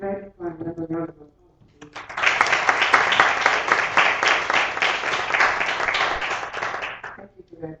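A live poetry audience bursts into a full round of clapping after a short spoken line, loud and steady for about five seconds before dying away as a voice resumes.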